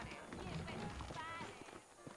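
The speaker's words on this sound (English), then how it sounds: "Alright, gonna ride some horses." Horse hooves clip-clopping in the Red Dead Redemption video game, a quiet run of rhythmic hoofbeats mixed low beneath game sounds and a talking voice.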